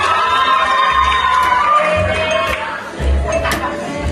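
A crowd of people shouting and cheering together, loud and sustained throughout, with a few higher whoops rising above the din.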